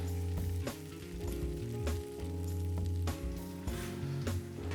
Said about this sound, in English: So we got the pierogies in right now. They're slowly simmering